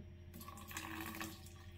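Cola poured from a bottle into a water filter jug, a steady close liquid stream and fizzing splash running throughout the short stretch, with no talk.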